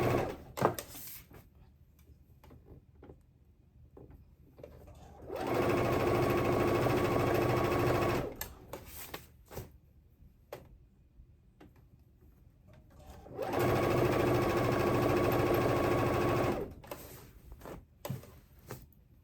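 A sewing machine stitching the armhole seam of a summer dress runs in two steady, whirring bursts of about three seconds each, separated by quiet handling clicks and fabric rustles nearby.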